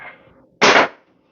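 An arrow from a recurve bow strikes a small catch box about 20 feet away, making one loud, abrupt thud. A faint murmur comes just before it, and the impact rings out briefly before quiet returns.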